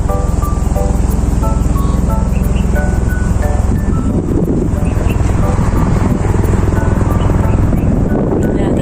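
A helicopter passes over a quiet tree-lined neighborhood in Tel Aviv, its steady rotor chop loud and continuous and growing rougher midway through, with faint voices and birds underneath.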